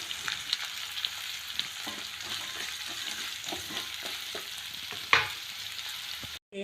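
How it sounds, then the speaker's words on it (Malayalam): Coconut pieces, green chili, onion, nuts and tomato sautéing in a pan for a Kerala fish roast, with a steady close sizzle, intermittent stirring scrapes and one sharp clank near the end. "തേങ്ങക്കൊത്തും പച്ചമുളകും സബോളയും നട്ട്സും തക്കാളിയും എല്ലാം നന്നായി വഴന്നിട്ടുണ്ട്."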